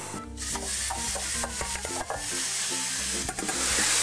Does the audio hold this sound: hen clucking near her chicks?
no